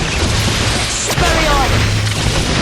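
Stupefy spells cast in Harry Potter and the Half-Blood Prince on PS2 give loud, dense magical bursts and crackling booms over a constant roar of game sound, with a voice shouting over them.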